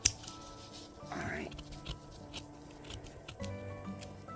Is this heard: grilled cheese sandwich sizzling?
no